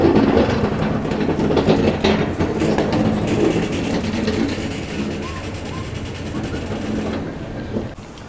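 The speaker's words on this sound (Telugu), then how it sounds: "ఆన్ టైంకి అయితే తీసాడు మన సింహాద్రి ఎక్స్ప్రెస్." Simhadri Express passenger train with LHB coaches rolling steadily on rails, a continuous loud rumble with faint rhythmic clatter throughout.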